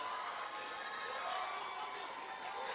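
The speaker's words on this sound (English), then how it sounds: "Give them a big round of applause." A graduating class at Riverside Academy West's 2023 ceremony is met by a steady wash of crowd applause and cheering, a dense continuous roar with no single voice standing out.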